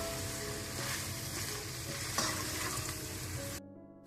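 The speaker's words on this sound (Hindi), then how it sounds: "अच्छी तरह गोभी मिलाने के बाद आप इसे मजीद थोड़ी देर के लिए और भून लें।" Cauliflower and meat being stirred and fried in a pan for gobi gosht, a loud continuous sizzle with stirring scrapes, close up, ending abruptly.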